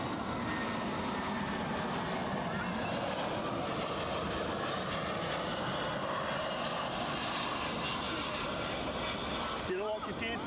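An Aer Lingus Airbus A320 at Edinburgh Airport gives a continuous broad jet engine roar, fairly distant and steady, with people talking faintly over it.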